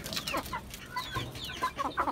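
Chickens cluck steadily in a rooftop garden pen, with several overlapping hen calls and short squawks close by, and no talking.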